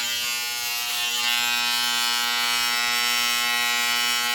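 Electric hair clippers buzz steadily close up, a continuous strong hum with bright harmonic whine held at an even level throughout while a man trims his own hair, set to a quarter-inch guard.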